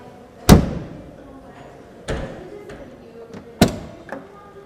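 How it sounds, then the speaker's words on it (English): A classic Mercedes-Benz 280 SE W111 heavy door shuts with three solid, deep thuds spaced over a few seconds, close and clear with no voices. "you have this heavy door and the sound is perfect"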